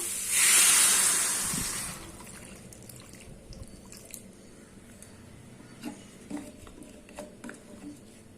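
A loud burst of hissing as water hits a hot pan of frying drumsticks (moringa pods), fading after a couple of seconds into quiet bubbling with a few light clinks.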